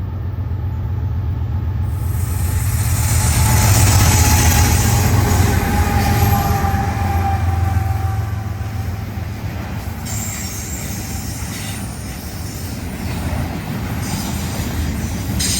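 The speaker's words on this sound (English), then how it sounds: "this BN train just fell in my lap" A BN freight train rolls past in mountainous country on the Spokane Subdivision near Eastport, Idaho. Heavy wheel rumble swells and fades, with sustained high metallic wheel squeal and loud, continuous clatter close by.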